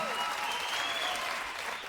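An audience at a live talk claps and cheers, a dense, steady wash of applause holding at an even level for the whole two seconds.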